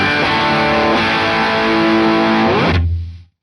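A distorted electric guitar chord rings out with a roomy ambience, sustaining steadily before cutting off, leaving a brief low rumble as it dies away.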